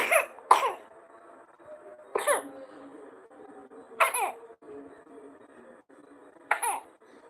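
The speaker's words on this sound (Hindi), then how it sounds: "खांसी आत है," A child coughs in short bursts, a few harsh coughs spaced a couple of seconds apart, close by in a quiet room.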